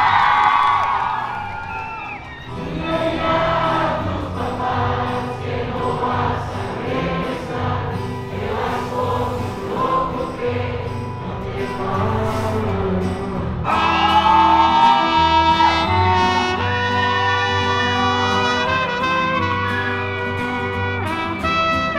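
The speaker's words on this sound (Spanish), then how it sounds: "Escuchen nomás cómo gritan las y los fans San Lucas." Fans at a concert in San Lucas scream and cheer continuously, a loud dense crowd roar with high shrieks and whoops, music faintly underneath, swelling louder midway.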